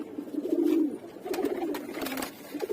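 A green-necked male racing pigeon coos in a few soft, low throaty bursts close by, separated by brief pauses, with faint rustling between calls.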